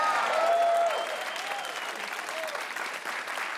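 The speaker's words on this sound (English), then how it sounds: "Oh, a round of applause." Studio audience applause on a British TV comedy panel show, steady dense clapping throughout with a brief voice at the start.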